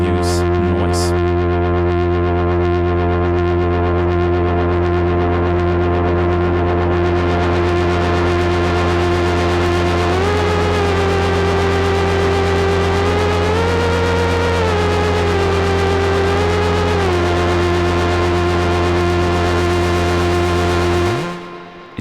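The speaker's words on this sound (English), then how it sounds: "Just brings in this white noise amount" Loud sustained drone from a Moog Subsequent 25 synthesizer with a broad hiss of white noise spreading across it, a pitch swell in the middle, cutting off abruptly at the end.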